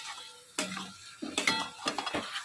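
Metal spoon scraping and clinking against a pan while mutton is sautéed, a few distinct scrapes and knocks, close and fairly quiet, with no voices.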